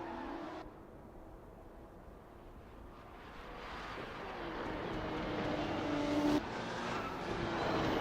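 Race cars in a Formula-style racing video game at the Indonesia GP, engines droning and rising as cars run side by side, a steady building roar with a brief pitch sweep near the end.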